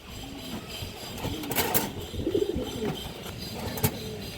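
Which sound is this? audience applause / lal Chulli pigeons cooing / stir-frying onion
lal Chulli pigeons cooing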